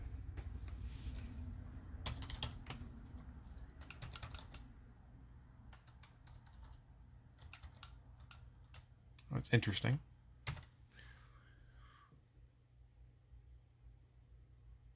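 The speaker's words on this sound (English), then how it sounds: "It was clicking a relay while I was typing in the root password." Keyboard typing of a root password on an Xiegu X6100 radio running Armbian, with a relay inside the radio clicking in sharp ticks alongside the keystrokes, close and moderately loud, plus one brief spoken remark.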